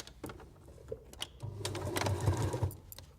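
Sewing machine top stitching fabric onto an oven glove, a short burst of quick mechanical whirring and stitching rattle after a few soft clicks, close and fairly quiet.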